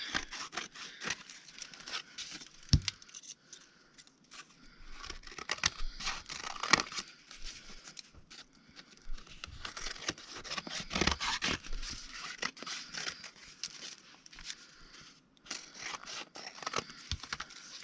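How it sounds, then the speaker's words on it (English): Scissors or a blade trims excess paper during craft ephemera making, a quiet series of irregular snips, rustles and crinkles close by, with no talk. "now we'll cut the excess off here too"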